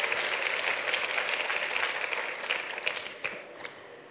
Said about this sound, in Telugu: చప్పట్లు కొట్టి ప్రభుని మహిమపరచుదామా